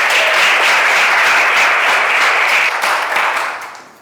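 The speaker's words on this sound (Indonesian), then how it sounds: "Jadi kasih tepuk tangan dulu untuk kalian semua." Audience applause at the close of a panel discussion at a polytechnic, steady and full for several seconds before tapering off at the end.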